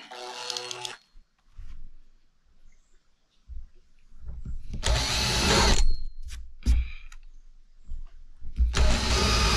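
A power drill whirs in several short, loud bursts separated by pauses, drilling a faucet hole for a kitchen sink and countertop, with a few clunks and handling noises in between.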